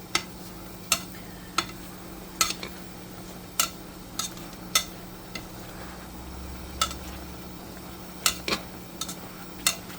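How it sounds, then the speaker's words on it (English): A utensil stirs pork belly in a cooking pot, giving sparse sharp metallic clinks and scrapes at irregular intervals over a quiet low hum and faint sizzling. "We're gonna stir it up a little bit more."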